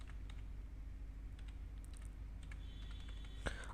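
Someone types quietly on a computer keyboard while entering transactions in Tally accounting software. Scattered soft key clicks sound over a low room hum, with one slightly sharper keystroke near the end.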